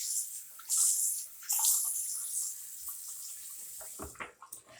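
Bathroom tap water running to wet a face, a steady hissing stream that surges twice, with splashing and a soft clunk as it ends.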